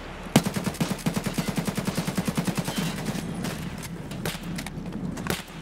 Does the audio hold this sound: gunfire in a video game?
yes